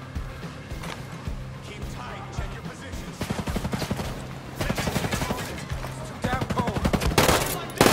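Rapid automatic gunfire and bursts of rifle shots in the video game Ghost Recon Breakpoint, growing louder and denser toward the end, with game sound and voices underneath.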